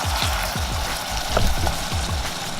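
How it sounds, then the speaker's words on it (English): Onions browning in a pan for Loco Moco gravy crackle with a loud, continuous sizzle, broken by repeated rhythmic scrapes of a spatula stirring them. "I like a lot of onions in my gravy like that for this Loco Moco, my adaptation of Loco Moco. I'm gonna brown them up."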